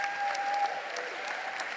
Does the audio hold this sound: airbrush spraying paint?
no